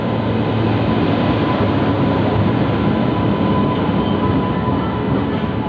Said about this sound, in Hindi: तो गाड़ी आ रही है